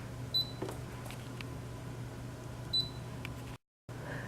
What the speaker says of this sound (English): Let's see how loud it is when it's actually cutting.